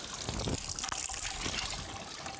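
Pink coolant pours and splashes steadily from an Audi R8 V8 into a container, a continuous close liquid gush with no talk over it.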